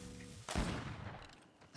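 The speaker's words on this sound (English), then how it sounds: "Stop shooting!" A single loud gunshot blast erupts in the video game Greedfall, followed by a rolling echo and lingering rumble that fades over about a second, with no speech.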